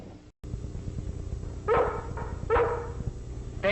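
Lassie, a dog, gives three sharp barks spaced about a second apart over a low background hum.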